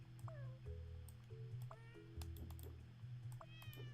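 Cartoonish cat meows from the puzzle video game Cats Organized Neatly, several short separate meows over a steady looping music bed, with no speech.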